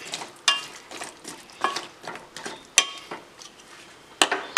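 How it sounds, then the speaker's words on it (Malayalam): Jackfruit cutlet mixture stirred in a pan, giving a series of scraping, clattering strokes of a spoon against the metal at an irregular rhythm, close and moderately loud with no talking. "ഇനി നന്നായിട്ടൊന്ന് ഇളക്കി മിക്സ് ചെയ്തതിന് ശേഷം നമുക്കിതൊന്ന് അടച്ച് വേവിക്കാം"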